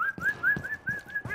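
A person whistles a repeated rising call at a cat, several short bright whistles in a steady rhythm, close and clear with faint background noise.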